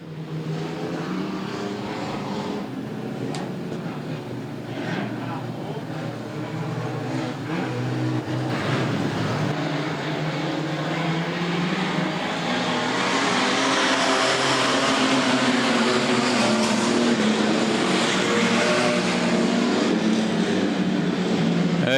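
Race cars roar around a racetrack in a sustained loud engine drone that swells and builds over time, with revving and passing cars blending into a continuous wall of sound.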